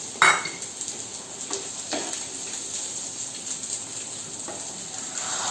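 Spice tempering for paneer do pyaza crackling in a small pan, a steady hissing sizzle with a sharp metallic clink at the start and a few light utensil taps, close and unvoiced.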